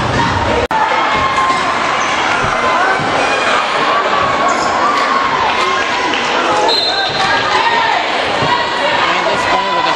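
At a high school basketball game between South Granville and Granville Central, a loud crowd roars and cheers without letup in a packed gym, with shouting voices and sneaker squeaks mixed through it.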